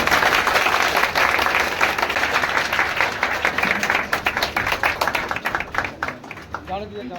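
Loud applause from a crowd at a Bhagalpur police motivational talk, welcoming a speaker; dense, sustained clapping that thins toward the end as a voice begins to speak.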